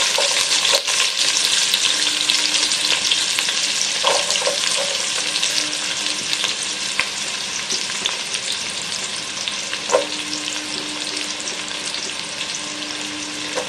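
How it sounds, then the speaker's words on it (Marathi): Chopped onion with ginger paste fries in a large pot for a jackfruit curry, giving a loud, steady hiss with occasional clinks and scrapes of stirring throughout. "कांदा चांगला भाजून घ्यायचा"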